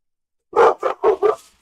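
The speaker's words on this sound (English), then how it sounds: "Jeez, that dog is so loud." A dog in a video game barks loudly, four quick, sharp barks in a rapid burst after a moment of silence, close and clear with no other sound behind them.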